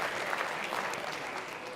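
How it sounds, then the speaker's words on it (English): A conference audience at a blockchain summit claps in a brief, steady burst that sounds moderately distant, with no talking over it. "Yes, clap ahead, clap ahead."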